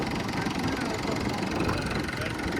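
A tractor engine idles close by, its low, rough, chugging rumble steady and vibrating without pause.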